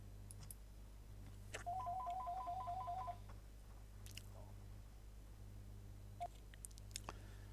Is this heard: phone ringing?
yes